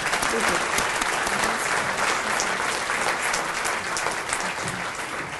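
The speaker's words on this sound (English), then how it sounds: "Let's give our long-standing members a round of applause" A chamber of commerce audience at a State of the Cities event gives long-standing members a round of applause, with dense, loud, steady clapping from a large crowd throughout.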